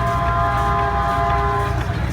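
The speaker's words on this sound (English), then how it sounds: "Well, it's a steam engine, basically." Steam engine train at a Bay Area maker fair, a steady loud rumble with a sustained horn-like whistle tone running through the whole stretch, close by and continuous.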